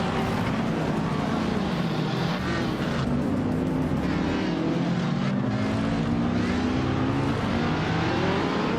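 Several race cars launch off the start line in a racing game, a classic 1963 Lancia Fulvia among them, engines rising together in overlapping harmonic whines that climb steadily through the gears, a dense continuous roar with no talk.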